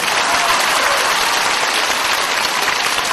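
A lecture hall audience at a Buddhist talk in Kuala Lumpur, Malaysia breaks into sustained applause, a steady, loud wash of many hands clapping with no pauses for the whole stretch.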